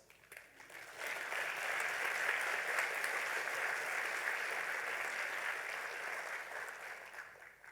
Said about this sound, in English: don't we deserve a round of applause?